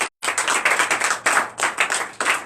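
A church congregation claps in acclamation to Jesus during a Sunday worship service, a loud rhythmic run of group claps in short bursts after a brief silent gap at the start.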